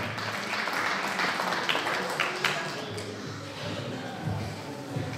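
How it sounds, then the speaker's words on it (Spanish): A quinceañera party crowd gives applause for the birthday girl's father, a dense, moderate patter of clapping filling the room with some murmuring voices mixed beneath it. "Fuerte los aplausos, por favor, para su papi de nuestra quinceañera."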